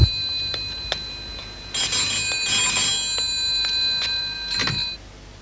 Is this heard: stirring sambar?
no